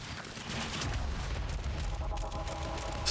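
Automated turrets firing in the action game Quantum Break, a steady dense roar of rapid gunfire and blasts throughout, loud and sustained, with no talk.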